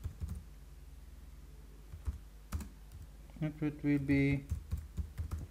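Keys clatter in quick irregular bursts on a computer keyboard while code is being written, close and fairly soft, with someone speaking briefly over the typing near the end.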